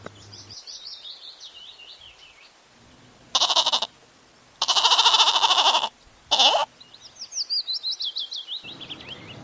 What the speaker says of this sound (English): G for goat.